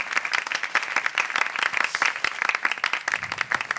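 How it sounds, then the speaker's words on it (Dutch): An audience at a student show claps in a dense, continuous patter of applause at moderate volume, with a few voices faintly audible underneath. "Nog een applaus voor Jyoti, Beno en Tamino."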